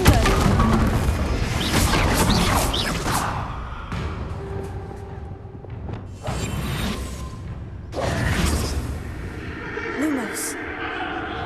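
Confringo fire-blast spell explosions in the Hogwarts Legacy game, a few heavy crashing booms with whooshing impacts amid dense combat noise, a voice briefly heard among the effects.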